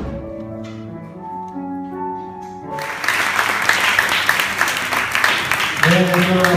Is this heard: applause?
yes